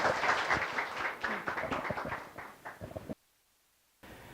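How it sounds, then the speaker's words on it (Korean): Audience applause at a Korean information-security talk concert greets a senior researcher from the Korea Internet & Security Agency, a dense, fairly near burst of many hands that thins out over about three seconds and then stops. "큰 박수 부탁드리겠습니다."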